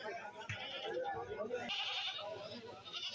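A billy goat at a goat market, a large meat-type buck, bleats in brief calls amid crowd chatter and nearby talk, with steady market din throughout.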